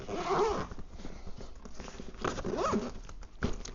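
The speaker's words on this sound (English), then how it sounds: "The top zips up" The zipper on a Franklin rolling ball hopper bag is pulled closed with a couple of close, rasping zip strokes, against faint background noise.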